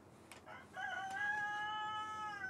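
A rooster crows a long, clear cock-a-doodle-doo at moderate distance, preceded by a few short clucks from chickens, standing alone without talk.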